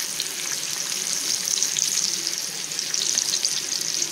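Fish pieces, including small kandeli fish, frying in oil in a pan, a steady close crackling sizzle that holds throughout with slight swells and no talking.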